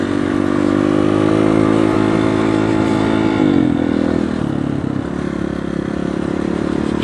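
A dirt bike engine drones steadily on a sandy trail, loud and close throughout, its pitch shifting midway as the rider eases and reopens the throttle, with faint clatter from the bike over the sand.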